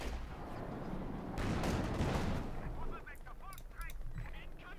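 Howitzer artillery fire in a Company of Heroes 2 match: a broad rumbling blast swells in the middle, followed by chattering honk-like battlefield sounds, all moderately quiet with the mix behind it.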